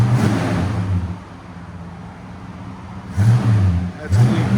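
A 1965 Oldsmobile Starfire with a 425 V8 and Borla ProXS exhaust idles with a low rumble, then is revved twice in short bursts near the end, each rise in engine note loud and close.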